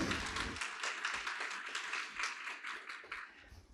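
An audience at a Hillsboro Reads keynote event claps for the program lead, producing a dense, even patter of many hands at moderate distance that continues without talk.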